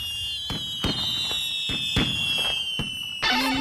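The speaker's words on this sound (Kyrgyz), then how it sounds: "бул түркүн түстөгү жаан салют деп аталат" Cartoon fireworks salute bursting in several sharp, loud bangs, with a bright whistling streak running through and a crackling shower at the end.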